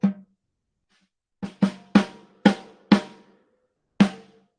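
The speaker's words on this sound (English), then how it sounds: "if I play the snare without this on, it's like really high pitched and ringy." An undampened snare drum is struck seven times, alone in a quiet room, each sharp crack followed by a high-pitched, ringing sustain, with an irregular rhythm and two hits close together.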